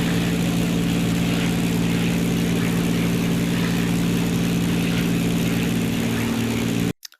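A P-51D Mustang's piston engine in the WW2 flight game Gunship Sequel drones at a steady, loud, even pitch before cutting off abruptly near the end.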